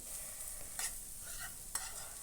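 Potatoes frying in a pan for a Kerala-style potato stir-fry as chili powder is stirred in: a faint, quiet sizzle with two brief scraping stirs.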